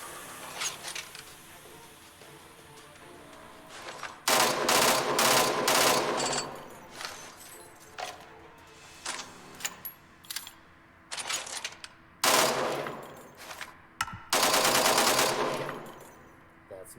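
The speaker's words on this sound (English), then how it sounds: "Machine gun." Bursts of rapid machine gun fire in the video game Angels Fall First, several sustained volleys and shorter strings of shots separated by quieter pauses, loud and close.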